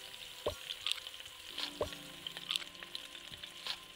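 Onion rings frying in the space cooking game Galaxy Burger, a quiet synthetic sizzle with repeated short clicks and chimes at a loose rhythm.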